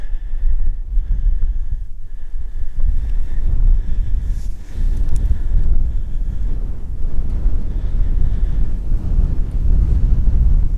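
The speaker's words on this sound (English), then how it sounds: "A very windy day." Strong wind buffets the microphone with a constant low rumble and roar, gusting throughout without pause.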